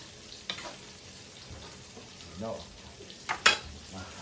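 Cabbage is stirred in a hot pan while pakbet cooks, with a steady sizzle, a few scraping strokes and utensil knocks, and a brief spoken word.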